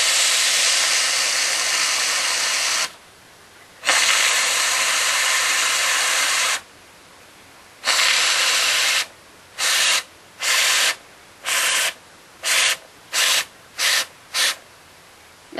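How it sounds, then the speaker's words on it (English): A hair steamer hisses loudly and close while dreadlocks are steamed. Long sustained bursts of spray give way to a quick series of short, evenly spaced puffs with silent gaps between them. "you get your steamer, and you start steaming it"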